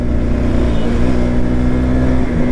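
A TVS Ntorq Race XP scooter engine hums steadily and close by, a loud, even drone with a constant pitch and no voices over it.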